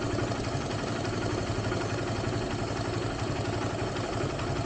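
A motorcycle engine low on engine oil idles steadily at close range, a continuous mid-pitched drone with a faint mechanical clatter and no voices.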